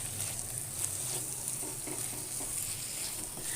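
Chicken and tomatoes simmer in a pan with fajita masala being stirred in, giving a steady, moderately quiet sizzle with faint scraping stirs and a low hum beneath, without any voices.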